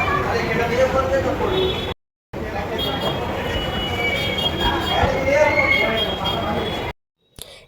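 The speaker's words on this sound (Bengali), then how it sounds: "জীবনে প্রথমবার মেট্রোতে চাপলাম" A metro train runs with a loud, steady rumble and rattle of carriages, with faint wheel squeals rising through it and two short cuts into silence.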